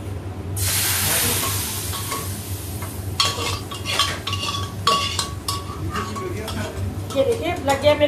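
Cumin and black cardamom tempering in hot oil in a pan for dal, a loud sizzle and spatter with metal spoon scrapes and clinks against the pan, continuous and close.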